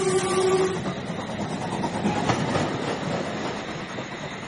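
A train pulls away in a sound effect from a horror audio drama, opening with a brief whistle and then a continuous rolling rumble and clatter of wheels that slowly fades.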